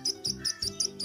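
Repeated bright bird chirps, about five short calls in a steady rhythm, fairly close and clear over a low background hum.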